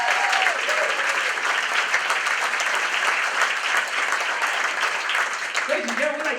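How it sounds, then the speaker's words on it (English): An audience at a children's champions awards event applauds honoree Phil Sweet, a dense, sustained round of clapping that stays loud throughout, with voices talking over it at the start and end. "let's give Phil a round of applause"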